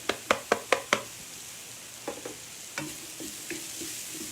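Onions going into a pan for an Indian-style vegan water spinach stir fry: a quick run of sharp utensil clacks against the pan, then softer scattered stirring knocks over a faint sizzle.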